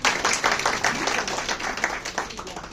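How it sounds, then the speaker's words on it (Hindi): An audience at a live music programme applauds with steady, fairly close clapping that continues throughout, with some voices mixed underneath. "तीनों के लिए एक बार फिर से जोरदार तालियां होनी चाहिए।"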